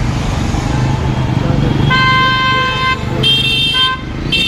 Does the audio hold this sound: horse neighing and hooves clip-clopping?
no